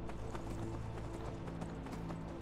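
Horse hooves in Skyrim clip-clopping in a quick, regular rhythm over steady background sound, moderately near and fairly quiet, with no voices.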